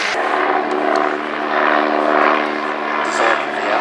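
A Westland Wasp naval helicopter flies at an air festival, its turbine whine and rotor drone loud and steady throughout, with a sharp click at the start and faint voices of the crowd underneath.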